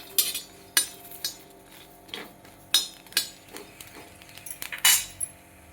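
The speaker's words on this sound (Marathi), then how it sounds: "आता आपण आपली मिरची भाजायला टाकून घेऊया." Green chillies roast in a pan for a peanut chilli thecha, with sharp scattered metallic clinks and scrapes of a utensil against the pan at an uneven pace, close and alone.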